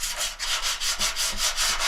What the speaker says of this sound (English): We're just going to lightly sand this primer back